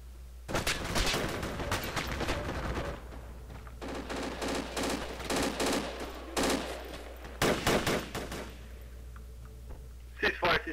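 Gunfire from the military shooter Project Reality, with repeated bursts of automatic fire and single shots in clustered volleys over a steady low rumble, loud and close, with voices talking over the shooting.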